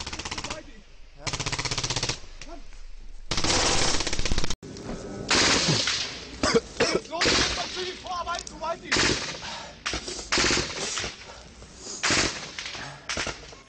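Bundeswehr soldiers in a firefight near Kunduz, Afghanistan: repeated bursts of automatic gunfire and single shots crack loudly and near, in irregular volleys over most of the stretch, with brief pauses between.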